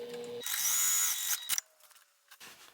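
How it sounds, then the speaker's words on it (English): A sewing machine stitches a seam in one quick burst, a loud close whirring motor hum lasting about a second before stopping, followed by faint handling noises. "I'm going to sew with the seam allowance given the pattern"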